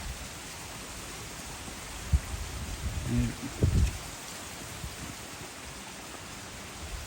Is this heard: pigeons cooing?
no